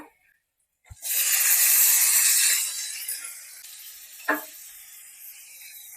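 Chopped tomato drops into a hot pan with garlic and ginger and bursts into a loud, bright sizzle that slowly settles into a steady hiss, with a short clatter partway through.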